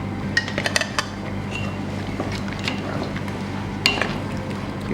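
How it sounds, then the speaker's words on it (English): A spoon stirs ogbono soup with crayfish and dried fish in a pot, giving close, irregular scrapes and clinks of metal against the pot over a low steady hum. "I'm gonna give it a stir as well"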